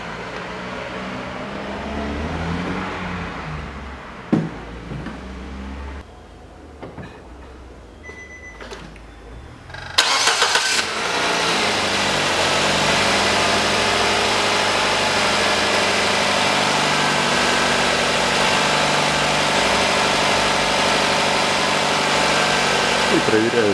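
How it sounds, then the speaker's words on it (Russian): A 2008 Nissan Qashqai 2.0 4WD with a CVT gearbox starts after a stretch of quiet with a short cranking burst. The engine then settles into a steady, close idle that hums evenly to the end. "Запускаю автомобиль."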